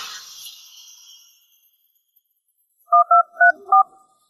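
A telephone being dialed: four crisp touch-tone keypad beeps in quick succession, close and clear, following a faint fading hiss.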